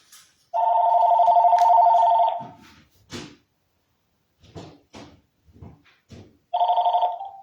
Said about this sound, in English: And now people are calling me on the phone.